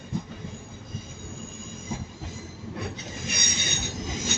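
A TransPennine Express Class 185 train at Manchester Piccadilly station, a steady rumble with rhythmic wheel clacks and a high squeal of wheels rising toward the end, no voices.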